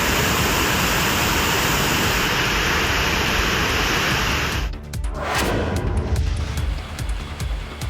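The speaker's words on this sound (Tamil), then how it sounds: "தோணி ஆற்றில் வெள்ளப்பெருக்கு ஏற்பட்டு பஞ்சலிங்க அருவியில் வெள்ள நீர் பாய்ந்தது" Floodwater from the Thoni river surges over Panchalinga waterfall, a loud unbroken roaring rush that lasts the whole time and shifts slightly midway.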